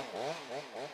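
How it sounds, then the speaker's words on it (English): A chainsaw cuts through an old cedar in Stanley Park, its engine rising and falling in three quick revving surges as it bites into the wood, loud and close with no voices. "A chainsaw chews through a cedar nearly as old as Stanley Park"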